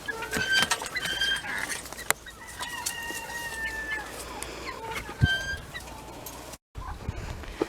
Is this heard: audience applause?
no